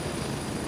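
A helicopter in the video game Gray Zone Warfare drones on as a steady, close, loud rotor-and-engine rumble that fills the whole moment without a break.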